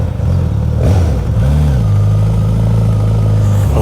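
A Suzuki GSX-S 950 motorcycle pulls away on a road in the Ardennes, its engine revving up through a couple of throttle blips before settling into a loud, steady, close drone.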